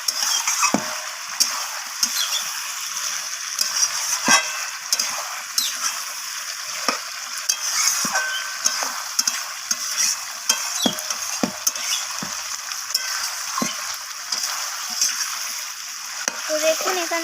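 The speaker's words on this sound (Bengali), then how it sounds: "তো আলুগুলো দেওয়ার পর আমি আবারও কষিয়ে নিচ্ছি" Chicken gizzard and liver masala with potatoes sautéing in a pan, an even sizzle punctuated by regular sharp taps and scrapes of a spatula against metal, close and steady, with no voices.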